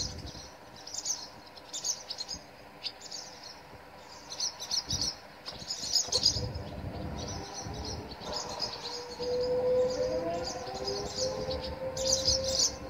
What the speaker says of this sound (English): That is my local tornado sirens going off.